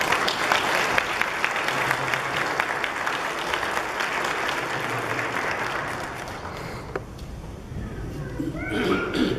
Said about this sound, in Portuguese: Vou dar uma salva de palmas.